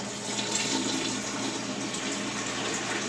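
Warm broth poured in a steady continuous stream into a pot with flour for gumbo-style greens, a rushing liquid splash with no talk over it.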